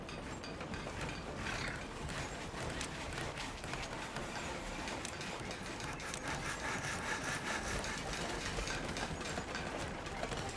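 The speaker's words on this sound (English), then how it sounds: "Listen to him, just hammering away at this thing" In the Timberborn video game, a beaver builder works away at a construction with rapid, continuous scraping and knocking taps that run densely throughout, quiet and steady, with no voices.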